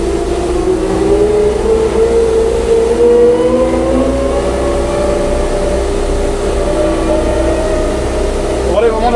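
Chinese AUPAX combine harvester driving on a road, its engine a steady loud drone with slowly rising pitch throughout, while people talk over it.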